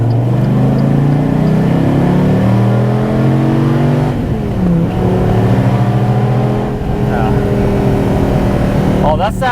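A 2014 SRT Viper GTS engine rumbles and revs loudly while driving, a deep steady drone with pitch rising through gears, heard under ongoing conversation inside the car.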